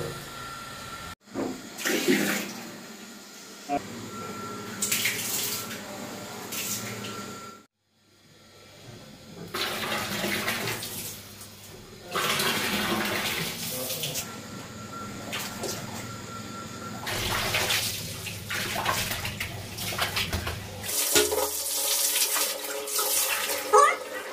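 Water rushes steadily through a water tank's pipe and out of a tap at close range, a continuous gushing flow with a brief break and some handling knocks.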